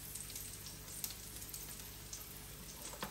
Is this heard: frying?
yes